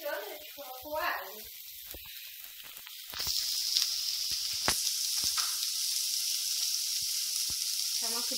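Garlic and olives dropped into a hot pan for carrot farofa burst into a loud, steady hissing sizzle after a few seconds of quiet talk, with a voice returning briefly at the end.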